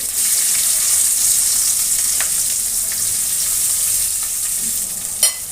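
Chopped onions frying in oil with cardamom and cinnamon for potato curry (aloo dum), a steady, close, continuous sizzle throughout with a faint stir or clink near the end.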